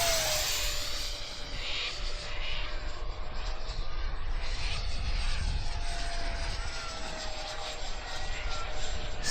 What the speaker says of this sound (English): She's very fast with this EDF system.